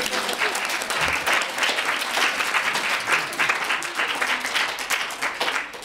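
An audience applauds at a conference, a steady, dense patter of many hands clapping throughout, sustained and fairly even in loudness, with no speech over it.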